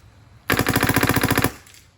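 Rapid burst of about ten gunshots fired through a PWR barrel in quick even succession, loud and close, lasting roughly one second, followed by a short fading echo.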